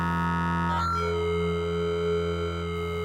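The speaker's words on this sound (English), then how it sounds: "Add a bit of reverb." Sustained wavetable synth tone with a slow sine LFO sweeping through the table and reverb added, a steady harmonic drone holding evenly for about three seconds with a brief shift in timbre early on.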